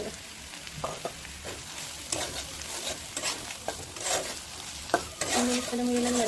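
Spices stir-fried in a hot pan give a steady sizzle broken by scraping stirring strokes and a few clinks of the utensil, fairly close, with no talk.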